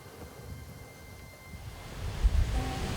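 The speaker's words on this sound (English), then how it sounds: "The problem with the cold front is it's brought a lot of wind with it." Strong wind from an incoming cold front buffets a prairie hunting stand, a steady roaring gust with rumbling microphone buffeting that swells louder toward the end, with no voices.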